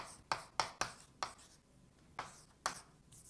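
Pen or marker strokes tap and scratch in quick, separate bursts as calculus notes are written out by hand, the close, faint strokes coming in an uneven rhythm with pauses between them.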